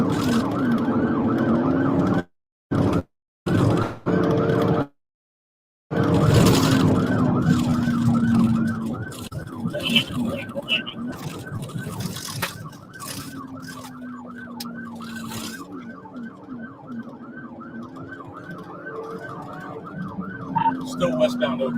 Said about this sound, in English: Dash camera video shows an officer turn on his sirens and follow Hefner